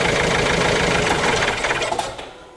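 A Ford Transit diesel with one injector's leak-off pipe pulled during a leak-off test idles roughly and loudly up close, then dies away as the engine stalls near the end.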